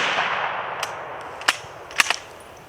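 Rifle shots from a 7.62x54 round striking a blacksmith-forged steel body armor plate outdoors: a few sharp, distant cracks with a faint metallic edge, well apart, over steady background hiss, no talking.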